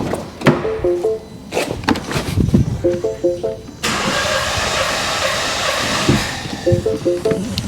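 A Mini Cooper S F56 engine with a multiple misfire cranks over in a workshop, giving about five rhythmic starter turns in short bursts, followed by a steady broadband whoosh of running or air noise after a sharp change.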